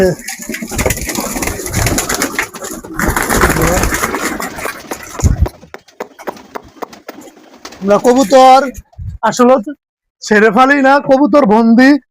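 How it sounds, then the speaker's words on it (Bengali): Pigeons coo in a caged loft on a rooftop, a run of close, loud, throaty rolling coos in the second half, following stretches of people talking and some clattering. "এই যে আমার কবুতরের সেটা দেখেন এখানে ছাদের উপরে"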